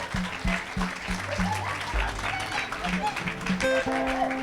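A church congregation claps and cheers together in a loud, continuous burst of applause, with voices mixed into the crowd noise throughout.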